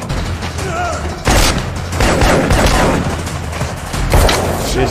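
Bursts of AR-15 rifle gunfire from a John Wick Chapter 2 action scene in underground catacombs, loud repeated shots and booms over a dense film soundtrack with a voice talking at times.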